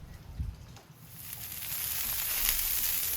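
Brisket trimmings seasoned with salt and pepper sizzle on a smoker grate, a soft crackling hiss that grows steadily louder, with a few faint bumps near the start.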